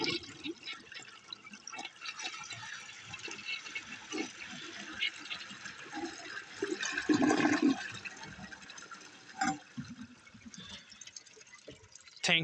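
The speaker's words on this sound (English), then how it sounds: "let's give this puppy a flush" A 1957 American Standard Cadet toilet, its tank lid missing, flushes with a loud rushing surge about halfway through, then water keeps running and trickling as the tank refills. Water noise stays steady throughout.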